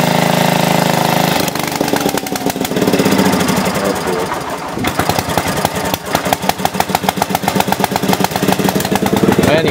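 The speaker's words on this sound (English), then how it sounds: "We just fired up the generator here, so we're going to be running on emergency power for a little while." An emergency power generator runs during Hurricane Sandy: the engine catches and settles into a loud, steady, rapidly pulsing chug close by, with a voice speaking near the start.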